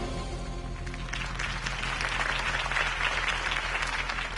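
Sustained applause from a campaign rally crowd, steady and dense clapping filling the whole stretch without pause, loud and close throughout.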